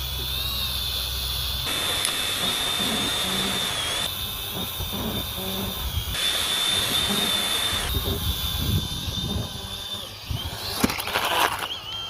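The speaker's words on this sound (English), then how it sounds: "Now, let's try taking out this cheap drone in mid-flight." A cheap drone in mid-flight being hit by a laser rifle: a continuous close whining buzz of spinning rotors with a steady high tone that wavers and breaks up toward the end.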